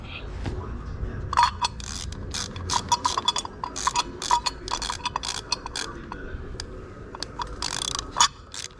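A hand ratchet tightens 7/32 bolts on an aluminum engine block during an LS 5.3L engine swap, with rapid, irregular ratcheting clicks in short bursts, close up and moderately quiet, continuing for several seconds.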